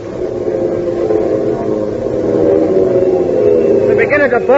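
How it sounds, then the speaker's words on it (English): Heinkel bombers diving as a radio drama effect, a loud, sustained roaring engine drone that rises and wavers, with voices starting over it near the end. "the sky became black with Heinkel bombers, hundreds of them, diving down on the Russian patriots"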